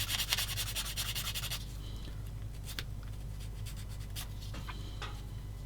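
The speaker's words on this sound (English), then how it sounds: "get my sander stick, which is there, and give that a bit of a clean up" A small plastic part from a Takom 1/35 Weasel model kit rubbed with a short sander stick, quiet scratchy strokes, a quick rhythmic burst at first, then sparse scrapes and taps, close and alone.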